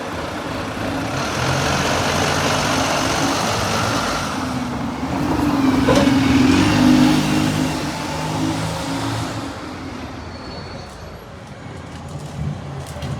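A Fairsaver Volvo B9TL bus engine on Dorchester Street just outside Bath bus station gives a continuous diesel drone with traffic around it, swelling louder midway and then settling back to a lower rumble.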